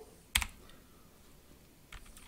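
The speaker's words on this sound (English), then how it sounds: "F4 on the keyboard." A single key is pressed on a computer keyboard while working on a Raspberry Pi, one sharp, close click followed by a fainter second tap a moment later, in an otherwise quiet room.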